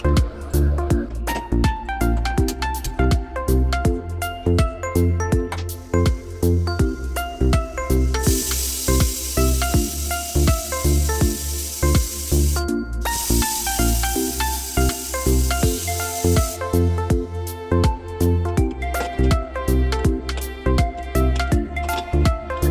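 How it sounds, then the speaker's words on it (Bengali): Steam hisses loudly from a pressure cooker boiling salted potatoes in a little water, in two long bursts over steady rhythmic background music. "এখন এটাকে আমি প্রেশারের মধ্যে দিয়ে নুন দিয়ে একটু জল দিয়ে সিটি দেবো"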